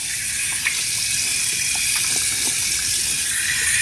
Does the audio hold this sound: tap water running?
yes